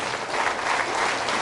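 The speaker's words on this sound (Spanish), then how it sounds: "Fuertes aplausos a Jesús." A church congregation applauding during a priest's talk on prayer in the Spirit, a loud, continuous roar of many clapping hands that fills the whole moment without speech.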